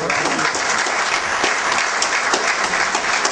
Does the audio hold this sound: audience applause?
yes